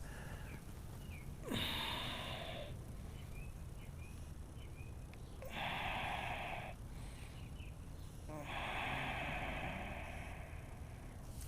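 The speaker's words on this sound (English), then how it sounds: "A few breaths" Slow, deep breathing during the final resting pose of a strong yoga flow class, heard as three soft, drawn-out breaths spaced a few seconds apart in a quiet room.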